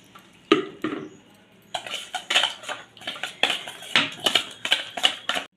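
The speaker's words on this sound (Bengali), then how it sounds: "আর জল দিয়ে দিচ্ছি, জল দিয়ে মেখে নেবো আমি" A spoon scrapes and clinks steadily against a bowl while semolina, sour curd and water are mixed together, giving a close run of rhythmic knocks and scrapes.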